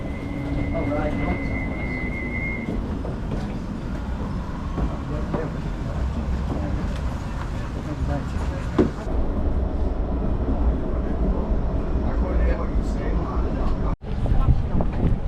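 Blackpool tram running toward Fleetwood, heard from onboard: rumbling wheels on rails with a brief high squeal early on and rattling motion. The rumble is continuous and loud, with people talking over it.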